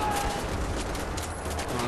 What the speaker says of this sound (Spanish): Están disparando por todos lados.